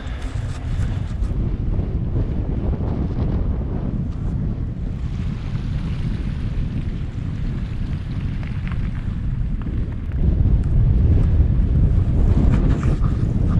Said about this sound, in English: this is where we've got the headwind to deal with